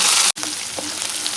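Onions hitting a hot pan with fried urad dal for a brinjal fry, a loud bright sizzle that drops out for an instant, then a steady close frying hiss with faint crackles.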